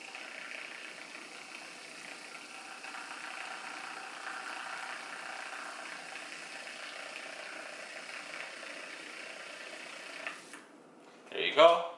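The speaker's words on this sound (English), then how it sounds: "I bought one of these little frothers from IKEA." A small handheld electric milk frother from IKEA whips cream with a steady, thin motor whir that runs continuously for about ten seconds before stopping, followed by a brief clatter.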